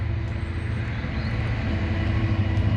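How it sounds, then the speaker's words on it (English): A passing train makes a continuous, loud low rumble with a steady hum throughout, with no voices over it. "So that train's going past, guys."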